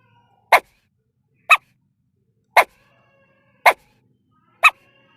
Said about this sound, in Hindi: देखती हैं कि एक डॉगी नीचे पड़ी हुई है और उसके बच्चे उसके चारों तरफ रो रहे हैं